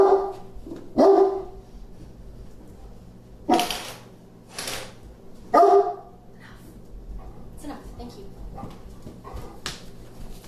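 A house dog barks at someone walking past outside, several loud, sharp bursts close by indoors, spaced apart, with quieter rustling and a few softer yelps between them.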